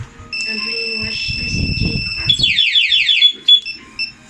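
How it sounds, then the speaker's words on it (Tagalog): A two-way alarm on a Yamaha Mio Sporty 115cc motorcycle sounds loudly up close, with steady electronic tones and then rapid warbling chirps. A voice talks briefly under the beeping. "Kill switch with alarm."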